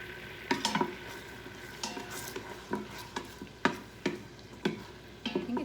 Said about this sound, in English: Okay, so it says to saute this.